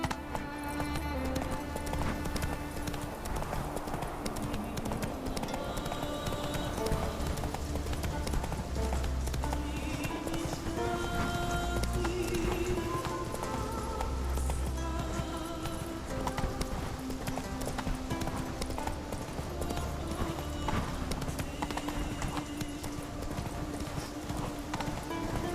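Roach the horse gallops in The Witcher 3, hooves clip-clopping in a fast continuous rhythm over a game score, with an occasional whinny.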